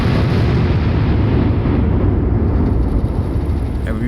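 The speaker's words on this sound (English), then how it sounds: "20 mil going out, 40 mil going out, and the occasional 105 howitzer" AC-130 gunship cannon fire, 20 mm and 40 mm with a 105 mm howitzer, in the naval combat game Sea Power: a loud, continuous roar of heavy firing and aircraft drone, with no gaps.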